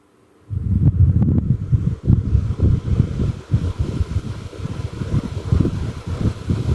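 A dusty electric fan switched on and running before being cleaned, a rough, uneven whir with fluttering low rumble that starts abruptly after a moment of silence and continues loud and close.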